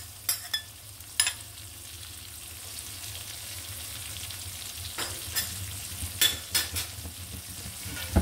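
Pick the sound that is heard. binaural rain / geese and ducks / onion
onion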